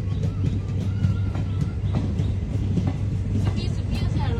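A passenger train bound for Dibrugarh gives a steady low rumble and rattle of carriages on the rails, heard close from on board with a constant drone.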